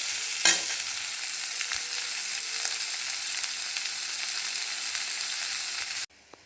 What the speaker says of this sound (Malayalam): ഇനി ലൈറ്റ് ബ്രൗൺ കളറാവട്ടെ, അതുവരെ വറക്കണം.